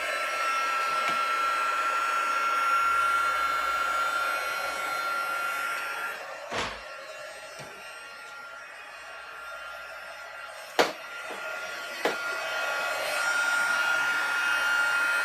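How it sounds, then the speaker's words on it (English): Heat gun running steadily for melting embossing powder in a stamping craft project, a loud continuous fan whoosh with a faint whine, broken by a few sharp clicks and knocks. "And then you take your heat gun and you start it up."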